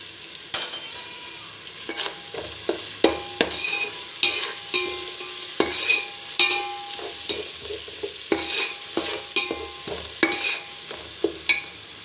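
Biryani masala with turmeric stirred in a hot pan for Ambur chicken biryani, a soft continuous sizzle broken by repeated sharp spoon scrapes and knocks against the pan at an uneven rhythm, with no talking.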